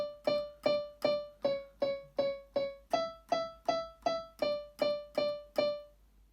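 Repeated keyboard notes from the verse of a song, a steady rhythm of about a dozen evenly spaced struck chords or notes, each decaying before the next, played clearly and alone with no talking.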